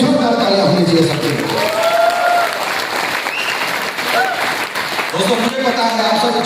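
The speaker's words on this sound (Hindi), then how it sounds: "एक जोरदार तालियां होनी चाहिए सबके" An audience at a wellness-group venue closing event claps in loud, sustained applause, a dense crackle filling the space while a voice talks over it through most of the stretch.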